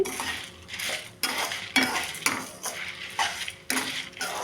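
Urad dal and dried chillies roasting on low heat in a pan, stirred with a metal spoon that scrapes and clinks in about eight distinct strokes over a faint sizzle, close and clear with no talking.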